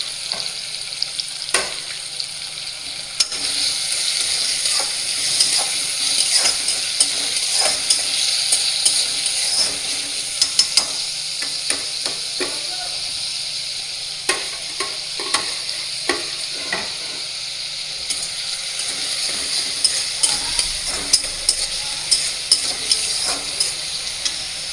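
Finely chopped onion fries in a pan for egg bhurji, giving a steady close-up sizzle broken by frequent sharp clicks and scrapes as it is stirred.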